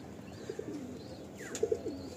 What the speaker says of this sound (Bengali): তারপরে তো এটা একদম কালসিরা পায়রা